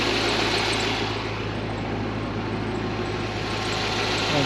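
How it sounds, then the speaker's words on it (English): A Lingenfelter twin-turbocharged LS2 6.0-liter V8 in a 2005 Chevrolet Corvette convertible idles steadily, giving a smooth, continuous engine drone up close with no other sounds. "That LS2 6-liter fires right up."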